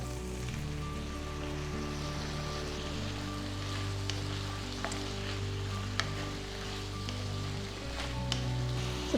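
Continuous sizzling of three medium chopped tomatoes frying in a pan for a pea and potato kurma, a steady crackle with occasional pops over a low hum.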